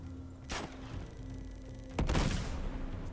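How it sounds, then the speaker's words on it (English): A grenade explodes in Uncharted 2: Among Thieves, a heavy booming blast with a rumbling tail that follows an earlier single sharp crack, all over a tense in-game background hum. "See if I can get him with a grenade."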